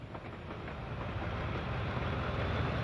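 A Class 58 diesel locomotive rolls past in Train Simulator, a steady rumbling roar of engine and wheels on rail that builds slightly over three seconds with faint clicking of the track, heard without talk.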